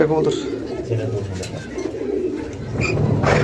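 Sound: racing pigeon cooing

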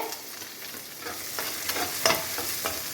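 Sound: stirring potatoes frying with turmeric and green chili

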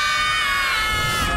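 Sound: group scream

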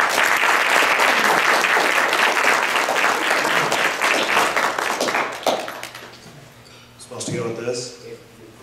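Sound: banquet audience applauding speaker Eric Jacobson

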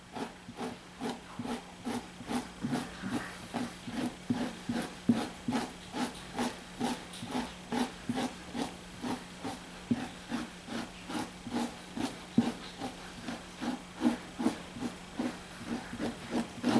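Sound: scraping fat off an otter pelt with fleshing tool

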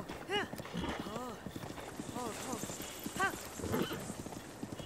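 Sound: horse riding in Zelda: Breath of the Wild video game

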